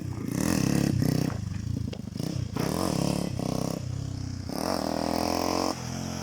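Motorcycle engine revving hard up close during a ride, several loud rising surges separated by brief dips, with clattering, scraping mechanical noise mixed in.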